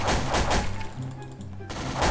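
Rapid bursts of gunfire in the Garry's Mod sandbox game during an animatronic survival co-op match, loud and dense with a brief lull midway before the shooting resumes.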